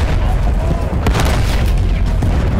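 A grenade goes off in the Battlefield 1 video game as a loud, close, heavy boom with a rumbling low tail, one sharper burst standing out partway through the game's battle noise.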